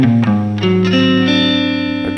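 Sustained electric guitar notes ring out and glide through a short, smooth Lydian dominant scale run with a slightly effected, reverberant tone.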